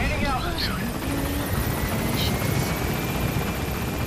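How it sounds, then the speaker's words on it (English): Helicopter arriving in Metal Gear Solid V: The Phantom Pain, a steady loud rotor drone throughout, with brief radio-like chirps and a voice heard over it. "Pulling in that helicopter."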